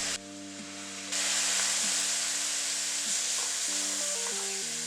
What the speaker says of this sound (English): and then we're going to add some red wine